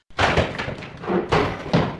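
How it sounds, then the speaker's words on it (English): A big wooden door crashing open, heavy thuds and bangs landing in a few loud bursts close up, with no voices over them. "the big wooden door crashed open"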